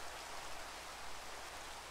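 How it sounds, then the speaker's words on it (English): Steady rain falls in a blocky Minecraft-style survival game world, a constant, even hiss of drops with no breaks, moderately loud and alone. "It's raining."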